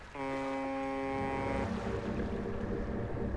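A boat's foghorn blasts in the fishing horror video game DREDGE, one steady, loud, deep-toned horn note lasting over a second before cutting off into a rumbling ambient drone of water and wind.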